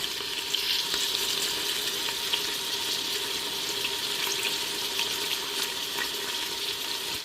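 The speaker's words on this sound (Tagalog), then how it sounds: "nagisa ko na yung ating wings" Chicken wings sautéing in a home kitchen pan give off a steady, close hiss and sizzle that holds evenly for several seconds, with small crackles scattered through it and no voices.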